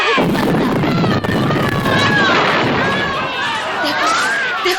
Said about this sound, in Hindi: ओरछा फाटक से उनकी तोप के गोले दुश्मन का कहर बर्पा कर रहे हैं